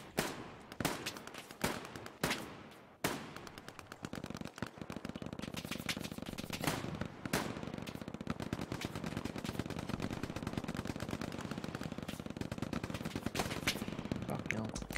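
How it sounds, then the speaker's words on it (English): Rapid, continuous gunfire roars through a Hell Let Loose battle during an aircraft strafing run, with a few heavy cracks at the start giving way to a dense, sustained rattle of automatic fire up close, with faint voices mixed in. "Strafing run incoming,"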